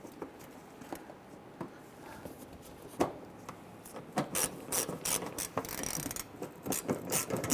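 A ratchet tightens a screw on the headlight mounting panel of a 1999-2004 Jeep Grand Cherokee, starting with sparse clicks and handling knocks, then quickening into rapid, close bursts of ratcheting.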